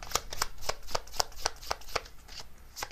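Tarot cards are shuffled from a deck in a steady run of about ten crisp flutters and slaps at a regular pace, close up, with no talking.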